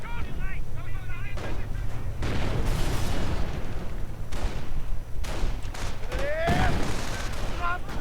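Mortar and gunfire in a World War II style real-time strategy game: repeated booming blasts and sharp gunfire bursts crackle throughout, with whistling projectile sounds near the end, loud and close under an ongoing battle din.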